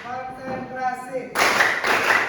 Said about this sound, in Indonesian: Satu kali tepuk semangat. Satu kali tepuk semangat. Dua kali tepuk semangat.